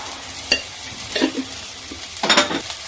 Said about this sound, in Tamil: வெங்காயம் வணங்கி வருது.